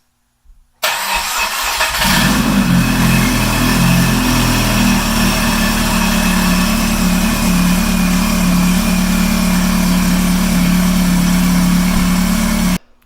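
A car engine cranking over and catching after an engine swap, starting abruptly, then settling into a loud, steady idle with a deep throbbing drone that runs nearly continuous before cutting off at the end.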